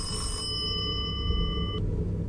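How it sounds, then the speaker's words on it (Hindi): A telephone in the Kamla Indian horror video game rings with a steady electronic bell tone over a low rumbling ambience, then stops abruptly. "फोन कौन कर रहा है भाई, तार तो कनेक्ट ही नहीं है"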